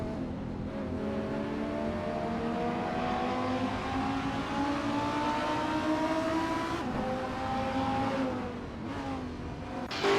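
Race cars roaring in a Gran Turismo Sport video game race, engines droning steadily with rising and shifting revs, a continuous loud pack of motors that dips briefly near the end before surging again.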